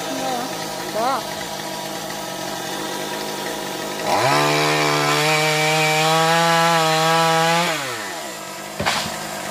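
A chainsaw cuts large silk cotton tree branches high in the tree, idling quietly before revving into a loud, sustained buzzing whine for several seconds, then dropping back down, with voices nearby.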